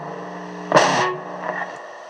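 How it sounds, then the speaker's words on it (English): A Randall RG100 G3 Plus guitar amp gives off a short distorted guitar hit whose tail washes out in a spring reverb splash, followed by a smaller second hit over a faint hum. "It has a reverb. It's a spring reverb."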